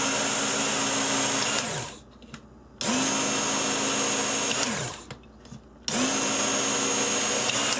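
Belt sharpener running a finishing belt on a knife: a loud, steady motor whine with grinding hiss, easing down twice in brief pauses and then spinning back up.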